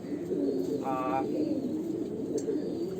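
Caged pigeons just before being let out to fly give a single short coo, set against a steady, noisy outdoor background.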